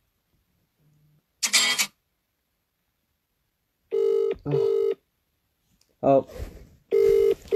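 A mobile phone places a call, giving short electronic tones followed by repeated ringback beeps in a quiet room. A voice briefly speaks between the tones.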